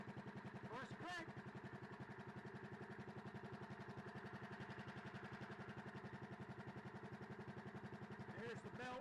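A Cushman golf cart engine runs steadily for the whole stretch, a close, even, pulsing drone with a couple of brief rattling surges near the start and end.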